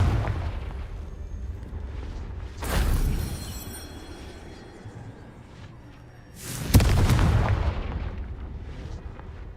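A Confringo blasting spell explodes twice in Hogwarts Legacy, each a loud, sudden burst with a rolling, rumbling decay, the first near three seconds and a bigger one near seven, over low game ambience.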